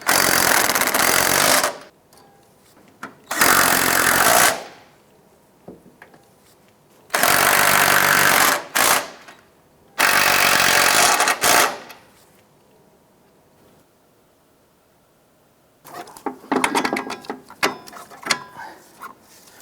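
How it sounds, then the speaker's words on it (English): Impact wrench bursts spinning off the four 14mm strut nuts on a 2001-2007 Ford Escape, loud buzzing runs of one to two seconds separated by quiet pauses, with a rougher rattling burst at the end. "use a 14mm socket to remove these 4 nuts holding the strut"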